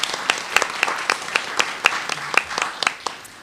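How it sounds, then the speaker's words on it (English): Audience applause for a woman introduced at a women-in-communication panel, with sparse, distinct claps rising in clear rhythmic bursts, fairly close and moderately loud, with no talking over it. "A big round of applause for this woman, please."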